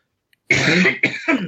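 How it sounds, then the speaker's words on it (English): Two close, harsh coughs after a brief silence, the first longer and the second short and throaty. "Excuse me, I'm going to cough."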